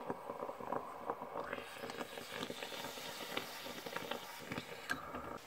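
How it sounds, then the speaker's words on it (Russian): Coffee maker finishing a brew in a home kitchen, a soft gurgling, hissing and bubbling that rises and falls continuously, fairly quiet and close with some light background noise. "кофе мое готово. Слышите, как шумит?"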